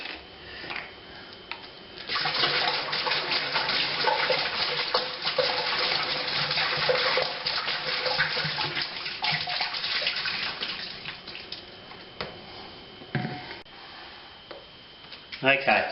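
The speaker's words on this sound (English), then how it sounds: "we've topped our water up to 23 litres" Tap water runs steadily into a plastic beer fermenter being topped up to 23 litres for a Coopers Draught home brew, a continuous rushing splash that starts after a couple of seconds and carries on with faint clinks.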